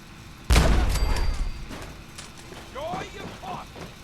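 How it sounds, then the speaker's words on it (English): A grenade blasts inside a hatch in Fallout 4, one sudden loud explosion with a rumbling tail that fades over a second, followed by a voice talking. "And we just threw a grenade down into the hatch. Blew him into a million pieces."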